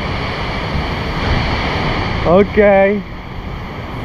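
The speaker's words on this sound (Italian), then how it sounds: "Sono venuto a vedere le cascate di Katibawa Sand Falls. Eccole qua" Steady broadband rush of the Katibawasan waterfall in Camiguin fills the whole stretch, with a brief spoken word partway through.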